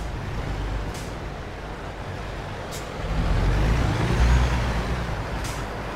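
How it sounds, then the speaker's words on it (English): A heavy truck rumbles in a trucking video game, its engine droning steadily and growing louder midway, with short hissing air-brake releases breaking through now and then. "Sir, I'm straightening out my truck."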